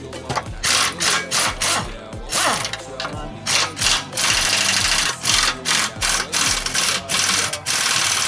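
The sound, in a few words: power tool removing steering wheel bolts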